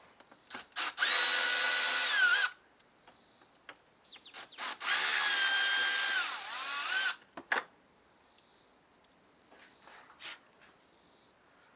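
A power driver with a Torx bit spins out screws holding the mass airflow sensor on a BMW M235i intake: two long, loud, whirring bursts, each winding down in pitch at its end, separated by quieter clicks and handling noise.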